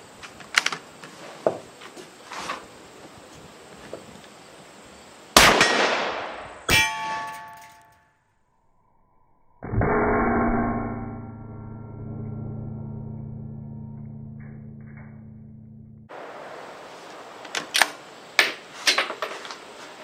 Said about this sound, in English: We're gonna shoot the plate at 70 yards, see what kind of knockdown power it is